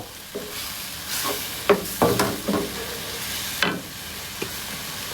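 Shrimp fry in hot oil in a pan, a steady sizzle broken by several louder crackling bursts and scraping stirs that come in irregular clusters, with no talking.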